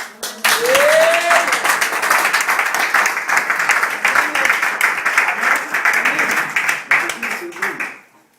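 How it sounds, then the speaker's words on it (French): A church congregation applauds in a loud, dense burst that keeps going for several seconds, with a brief voice near the start, before fading out at the end. "je veux que l'on va applaudir le Seigneur Jésus"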